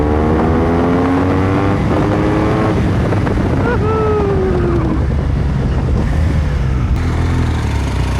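A loud 1200 cc BMW motorcycle engine roars and revs while riding, its pitch climbing and dropping through gear changes, with steady wind rush underneath.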